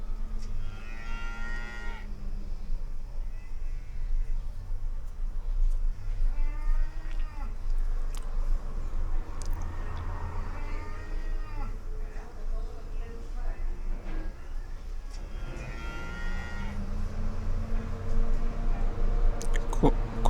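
Several cow moos sound at intervals, moderately close, over a steady low background rumble, with a few other faint noises between calls.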